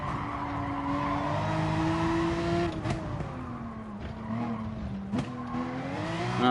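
A race car in a racing sim at Brands Hatch brakes hard into pit entry. Tires squeal and skid in a sustained whine as the engine note drops through downshifts, close and continuous.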